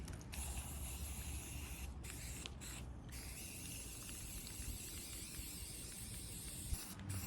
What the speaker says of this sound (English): I got some spray A123, and I just want to coat all of it